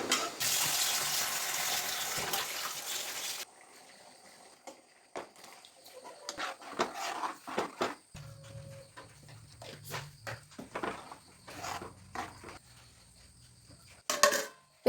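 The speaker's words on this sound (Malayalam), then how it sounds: "പിന്നത്തെ കപ്പ കഴുകാൻ വേണ്ടി ഇറങ്ങിയതാണ്." A tap runs loudly at the start as muddy tapioca is washed during the rainy season, then the rush cuts off into scattered splashes, scrapes and handling noises nearby.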